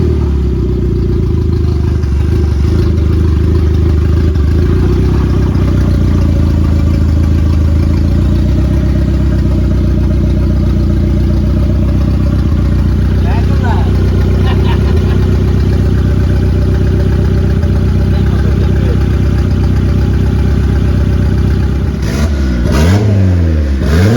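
A newly built turbo non-VTEC Integra engine runs loudly and roughly throughout, revving up and down with some clattering, close by and steady for the whole stretch.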